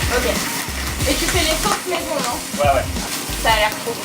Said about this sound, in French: Ça grésille, vous entendez ou pas?